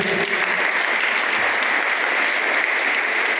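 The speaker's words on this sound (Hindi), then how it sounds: "अपने लिए एक बार ताली बजा लीजिए।" Audience applause at a national event held on Swami Vivekananda's birthday for youth and students, a dense steady clapping from a large crowd filling the whole stretch without pause.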